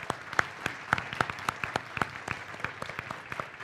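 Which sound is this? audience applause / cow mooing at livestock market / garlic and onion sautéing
audience applause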